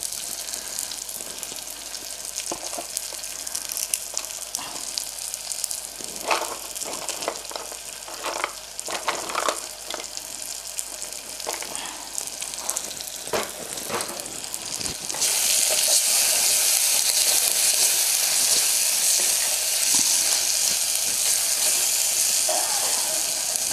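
Cloves and cardamom sizzle in a hot pan for tamarind rasam, a steady frying crackle with scattered pops and stirring clicks that swells into a louder, denser hiss in the final third.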